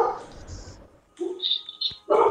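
A pet dog gives a couple of short, close yips and barks in quick succession, with a voice speaking at the start.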